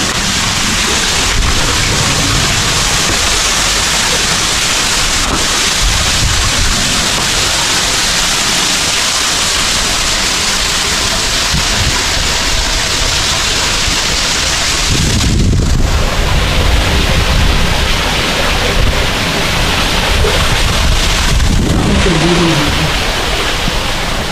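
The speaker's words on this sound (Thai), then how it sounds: "มีน้ำไหลลอดใต้พื้น" Water flows under the rock floor of a cave on Phu Tham Phra, a loud, steady rushing wash throughout with brief rumbling bursts of nearby handling or wind.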